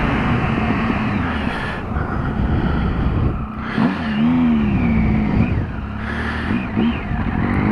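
A 2016 Triumph Speed Triple R motorcycle accelerates hard, its engine note rising through several revving surges with brief dips between gears, loud and close amid wind noise.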